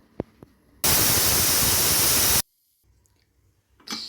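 A kitchen pressure cooker cooking menthya bath vents a single loud, steady burst of steam hiss lasting about a second and a half, ending abruptly and followed by near-silence and faint kitchen sounds.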